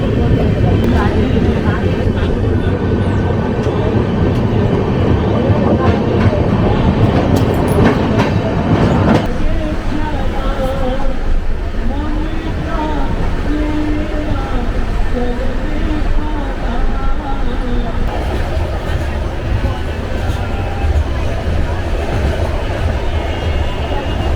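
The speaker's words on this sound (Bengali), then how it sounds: "রেল চাকুলিয়া ছেড়ে যাচ্ছে" The 12871 Ispat Express pulling out of Chakulia station in Jharkhand: a loud, continuous rumble and rhythmic clatter of wheels, with a rising whine building as the train gathers speed.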